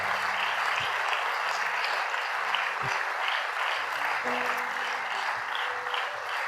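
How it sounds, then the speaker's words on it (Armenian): An audience at a church gathering claps in a dense, sustained round of applause that stays loud and even throughout, with a few low thumps underneath. "Եկեք մենք իրանք ծափերով ճանապարհենք"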